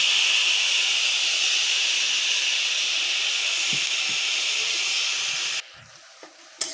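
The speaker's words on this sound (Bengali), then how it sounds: "তো এখন আমি চিংড়ি মাছগুলো হালকা করে একটু ভেজে নেব।" Shrimp fry lightly in a kadai with a steady, even sizzling hiss close by that cuts off abruptly near the end, followed by a few faint clicks.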